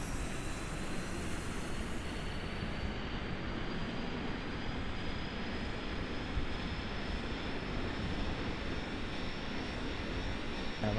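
Rocket engine in Kerbal Space Program throttling up at launch, a loud, steady broadband roar that holds constant and unbroken throughout, with no voices over it.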